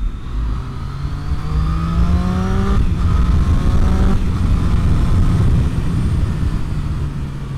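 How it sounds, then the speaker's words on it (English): A 2013 Triumph Street Triple R roars through its stock exhaust, close and loud, its revs climbing in rising sweeps with a brief shift break before pulling hard again. "And this is a stock exhaust!"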